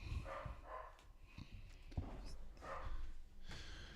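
A dog barks inside a house, heard as repeated muffled barks spaced through a noisy, rumbling background, fairly faint and indistinct.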